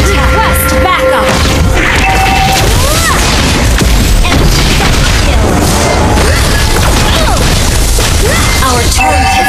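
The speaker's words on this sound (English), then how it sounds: "Our turret has been destroyed." Mobile Legends match audio packed with crashing impacts and booms as a turret is destroyed, layered with dense game effects and announcer-style voice lines throughout.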